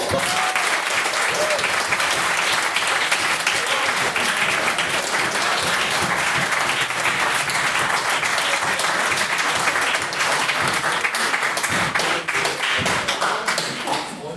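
Sustained audience applause from a debate hall at the close of a speech on banning autonomous weapons, dense and steady for the whole stretch before tapering slightly at the end.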